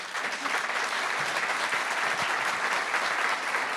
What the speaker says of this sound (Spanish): Yo creo que nos merecemos un aplauso final.